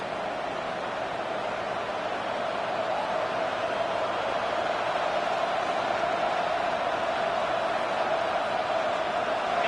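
A stadium crowd roars at a UNC versus Clemson college football game, a dense, steady wash of noise that holds loud and unbroken throughout, with no distinct voices standing out.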